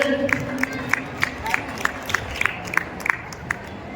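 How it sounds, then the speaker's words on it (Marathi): An audience at an agricultural and livestock exhibition event claps in a steady rhythmic beat, moderately loud over crowd murmur. "जोरदार टाळ्या झाल्या पाहिजे"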